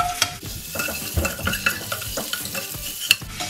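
Duck eggs stirred and fried in hot oil in a pan, a steady close sizzle with repeated scraping stir strokes throughout, no talking.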